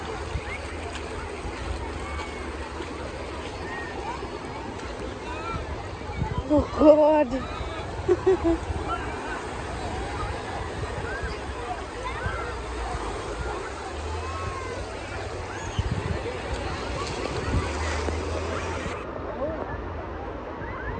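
Sea waves rush in and wash around a person on a beach, a continuous broad watery surge that swells briefly near the middle, with voices talking and shouting over it throughout.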